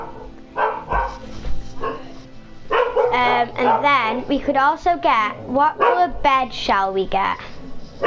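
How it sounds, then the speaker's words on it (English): A dog barks and yips repeatedly in a quick excited series nearby, overlapping with a person talking. "Oh my god, that's my dog."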